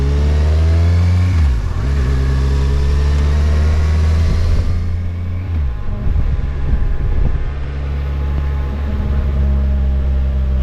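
Steady traffic rumble as cars pass along a street, engines humming loudly and continuously with a couple of vehicles sweeping close by.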